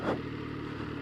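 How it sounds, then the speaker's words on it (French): An MV Agusta 800 Brutale motorcycle engine on a test ride, a steady close low drone with a brief swell at the start. "Donc on fait l'essai d'une MV Agusta 800 Brutal."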